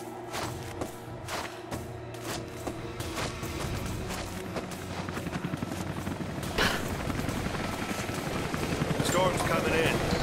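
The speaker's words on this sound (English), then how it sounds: "We'll have to ground the choppers soon." A helicopter flying overhead in Rise of the Tomb Raider on PC gives a steady, pulsing rotor throb that builds louder toward the end, mixed with thuds and heavy game ambience while characters talk over it.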